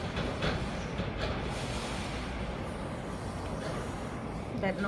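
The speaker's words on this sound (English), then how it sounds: "That noise is the wind against the tormenteras, the storm chatters." Hurricane-force wind buffeting and rattling storm shutters during Hurricane Maria, a loud continuous roar with broadband rumbling and faint knocks.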